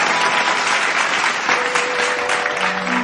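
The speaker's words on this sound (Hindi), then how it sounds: "जोरदार करताली सहित स्वागत करिबा" Audience applause welcoming a singer onto the stage at a live prayer-stage music program, a dense, steady wash of clapping that holds for the whole stretch without a break.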